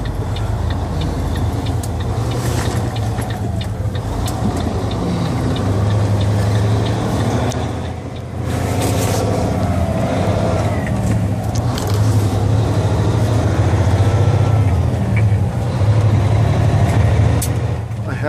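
A Volvo 780 truck hauling a container drives on the road at night, its engine a loud, steady drone with constant road rumble that dips briefly midway before resuming.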